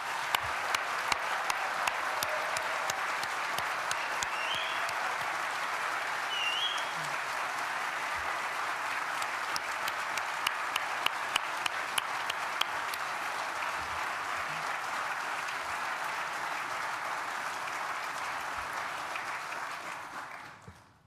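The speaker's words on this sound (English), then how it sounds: "give a great round of applause for our graduates" A graduation ceremony crowd for architecture, design and built environment graduates gives a sustained round of applause, dense steady clapping with scattered sharper claps, lasting about twenty seconds before fading out at the end.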